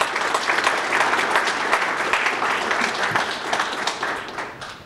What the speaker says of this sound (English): So to give our DPW a round of applause